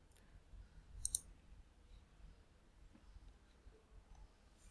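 A computer mouse clicks twice in quick succession, crisp and close but quiet, against a low background hum with no talking.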